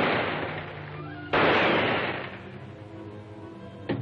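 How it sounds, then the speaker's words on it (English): Gunshots in an old radio adventure drama, two sharp loud bangs a few seconds apart, each trailing off into a ringing decay, with no voices over them. "You fired three shots at Blanker and two at me."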